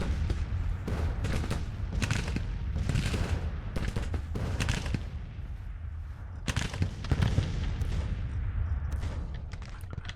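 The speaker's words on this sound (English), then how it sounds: "They're gonna get another salvo up there." Musket salvos from Grand Tactician: The Civil War battle, massed volleys crackling in repeated bursts with rumbling booms, a dense, continuous fusillade filling the field without voices.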